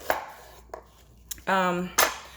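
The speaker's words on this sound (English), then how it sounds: "I just kind of make big slices" A knife chops through meat on a cutting board for Korean bulgogi, three or four sharp close knocks with gaps between, and a short voiced sound breaks in near the end.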